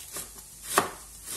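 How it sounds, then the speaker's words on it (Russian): A knife slicing a piece of cabbage thinly on a cutting board, a few quiet, irregular strokes with one sharper cut in the middle. "Тоненько нарезаем наш кусочек капусточки"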